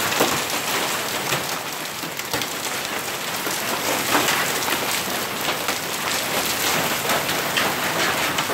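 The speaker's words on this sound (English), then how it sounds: "Guys, it's hailing like it's raining." Heavy hail pelting down in Houston, a dense, constant hiss of pellets striking surfaces with scattered sharper cracks, loud and steady throughout with no talking.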